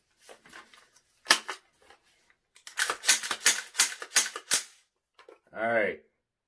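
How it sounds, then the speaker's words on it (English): A firearm being handled and cleared at a protest setting, with sharp mechanical clicks and clacks scattered between bursts of close talking, ending in a short tonal sound. "let me go ahead and make sure this weapon is safe"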